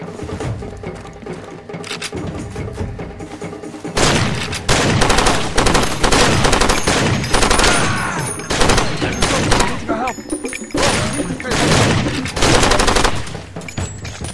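Repeated loud shotgun blasts from enemy fighters in the video game Far Cry 2, coming in dense overlapping bursts over a steady combat background, with brief quieter lulls between volleys.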